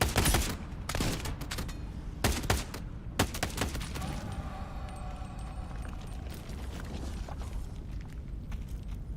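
Rapid bursts of gunfire from a weapon in the VR shooter Into The Radius 2, loud sharp shots clustered in the opening seconds, then scattered reports and mechanical clatter over a steady ambient hum.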